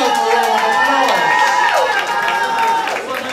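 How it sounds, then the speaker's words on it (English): Party crowd at a birthday celebration applauding, a dense, loud roar of clapping mixed with cheering and excited voices, sustained throughout and easing slightly at the end. "So give yourself a round of applause."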